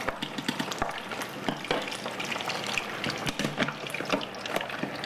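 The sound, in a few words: battered onion blossom frying in very hot grease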